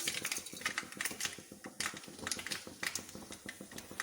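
Mustard seeds splutter in hot ghee for a mango curry, a quiet, rapid patter of tiny pops and crackles that keeps going throughout.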